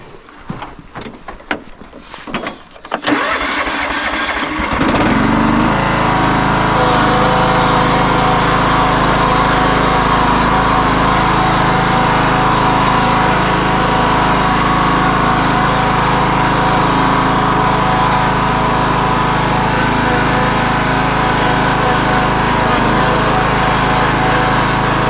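A lawn mower engine cranks with a few choppy pulls, then catches and settles into a loud, steady, droning idle close by for the rest of the stretch.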